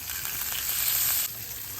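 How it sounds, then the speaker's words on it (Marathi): Water is poured into a hot, sizzling tempering of oil, curry leaves and green chillies for dhokla. A loud, hissing sizzle swells and then drops abruptly to a softer, steady simmer, with no talking. "आता ह्या फोडणीमध्ये आपल्याला अर्धवाटी वाटी पाणी मिक्स करायचं आहे"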